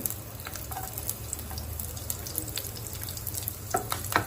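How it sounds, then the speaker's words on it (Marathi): Finely chopped green chillies and garlic frying in hot oil for aloo palak, a soft, steady sizzle with scattered crackles and pops, fairly close and on its own. "तेल हे गरम झाले की आपल्याला इथे आपण जो मिरच्या व लसूण बारीक चिरून घेतल्या होता तो टाकायचा आहे"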